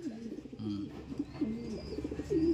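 Racing pigeons coo nearby in soft, throaty, repeated calls, several birds overlapping in a gentle burbling rhythm.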